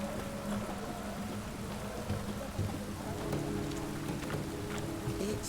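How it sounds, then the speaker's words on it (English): Steady rain pours through The Witcher 3: Wild Hunt game world, a dense continuous hiss with faint patter and low rumbling underneath, holding at a constant moderate level with no voices. "It's raining, of course it's going to be damp."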